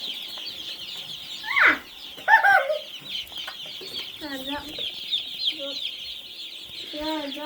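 Several meat chickens cluck and squawk close by in irregular bursts, with a steady high background chorus of insects or birds.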